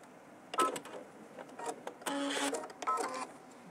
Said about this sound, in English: I will probably be sewing them together with a scant quarter of an inch